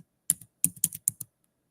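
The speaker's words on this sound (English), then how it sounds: "Making sure that I'm typing this in correctly." Short bursts of typing on a computer keyboard, about six crisp close key clicks in uneven clusters with silent gaps between.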